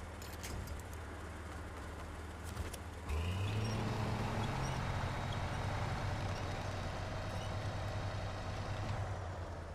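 Truck engine in the Snow Runner game straining as it tries to push forward, revving up sharply partway through into a sustained, loud droning roar with a shifting pitch.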